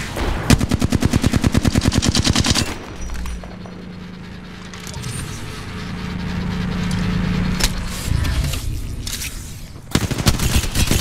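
Automatic gunfire in the video game Apex Legends: loud, rapid bursts of shots at the start and again at the end, with a rumbling, explosive stretch of combat noise between them.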